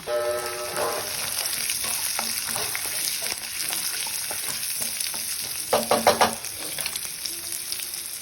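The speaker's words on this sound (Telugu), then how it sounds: "ఇవన్నీ ఫ్రై చేసుకోవాలి." Spices and onion fry and sizzle in a pan, a steady soft crackle with occasional louder scraping stirs and a brief clatter partway through.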